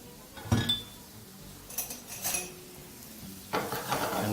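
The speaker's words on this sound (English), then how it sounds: "using a spoon, scoop that right into the pan" A spoon scrapes and clinks against a pan while tomato puree is scooped in: a sharp clink near the start, then a few lighter taps and scrapes spread through the rest, close and fairly clear.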